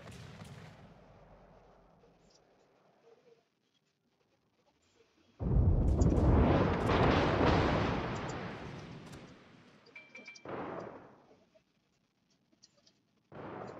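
Naval artillery salvo from warships in World of Warships, a long, loud roaring broadside blast that rumbles and fades over several seconds, followed by a second shorter boom and the start of another, with quieter ambient noise beforehand.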